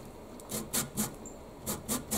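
A lemon skin scraped over a fine grater for zest makes short airy rasps, six or so bursts in two groups with a brief pause between, near and without talk.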